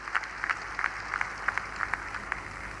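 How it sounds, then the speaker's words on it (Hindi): A hall audience at a community foundation-day gathering claps together in a loose, fairly soft patter of applause lasting a few seconds, heard from a distance with no talk over it. "एक बार जोरदार ताली बजाइएगा एक बार"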